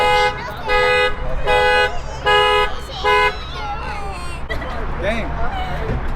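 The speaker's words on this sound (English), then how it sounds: "this little ass kid opened the door and it's just like honking." A car alarm honks in loud, regular bursts at a Southern California car meet after a door is opened on a Lexus IS300, with a crowd chattering around it; the honking stops partway and talk carries on.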